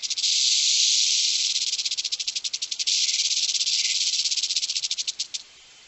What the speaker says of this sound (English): they can rattle their tail up to about 60 per second